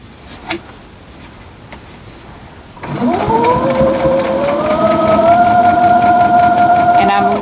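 A sewing machine stitches quilt fabric with a steady, close, rapid mechanical whir that starts partway through and runs to the end, picking up slightly in pace. There is quiet handling noise before it starts.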